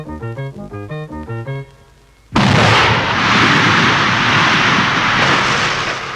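Earth is blasted for construction of the Paris-Lyon TGV line: after a run of plucked musical notes and a brief lull, a sudden loud explosion bursts out and fades into a long, heavy rumble.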